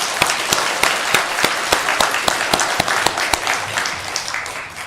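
A church congregation claps in thanks during a Christmas Day worship service, a loud sustained round of applause with crisp rhythmic claps near the front, no speech over it.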